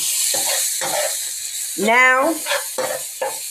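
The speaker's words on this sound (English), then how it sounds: "I'm over here frying my peppers for my dirty rice." Peppers for dirty rice fry in a pan with a steady sizzle and stirring scrapes, while someone talks briefly over the cooking at close range.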